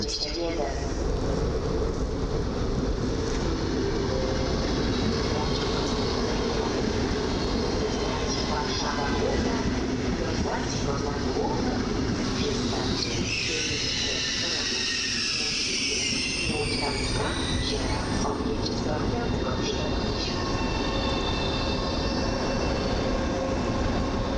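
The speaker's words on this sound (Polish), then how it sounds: "A my przy peronie piątym podejmiemy teraz kolejnego dziobaka, czyli ED250." A PKP ED250 high-speed electric train moves along platform five at Warszawa Zachodnia station, a loud sustained rumble of wheels with metallic squealing and a rising whine midway, while someone talks over it.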